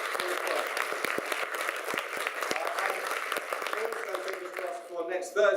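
A room full of people applauds steadily, a dense patter of clapping that fades out as a voice starts up at the end.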